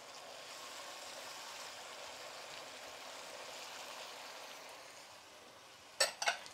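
Cooking sherry hits a hot pan and sizzles steadily with a soft hiss for several seconds, followed by a couple of brief close clinks near the end.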